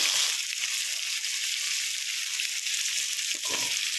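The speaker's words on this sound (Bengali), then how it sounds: "এবার কুমড়ো আলুটাকে তেলের উপরে দিয়ে দিলাম।" Pumpkin and potato hit hot oil with a loud, continuous hiss and sizzle that stays steady throughout, with a brief clatter near the end.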